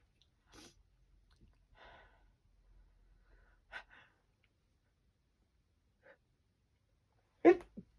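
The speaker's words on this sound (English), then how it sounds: "Excuse me, I'm going to sneeze." A single sharp sneeze bursts out near the end after a few quiet breaths and small sounds in an otherwise hushed room.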